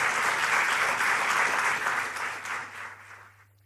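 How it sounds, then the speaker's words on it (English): A panel audience applauds at a US presidential dialogue event with Vietnamese start-up founders, a dense burst of clapping that holds steady, then thins and fades out near the end. "So please give them a big round of applause"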